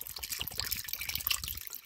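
Evaporated milk poured from a 12-ounce can into a bowl makes a close, continuous gurgling trickle with small splashes throughout.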